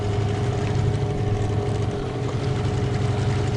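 A boat's outboard motor on a river at sunset on a fishing trip gives off a loud, steady, close engine drone with a low rumble that holds even throughout.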